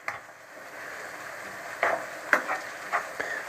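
Minced meat with onions frying in a pan for navy-style pasta, stirred with a few soft scraping clicks over a steady low sizzle.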